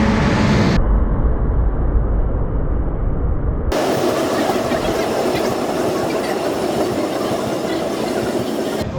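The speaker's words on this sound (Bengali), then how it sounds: "এই হচ্ছে আমাদের ট্রেন ঢুকে গেল" The Amrit Bharat Express pulls into a station with a loud, continuous rumble of rolling wagons and rhythmic wheel clatter. It holds steady and close throughout.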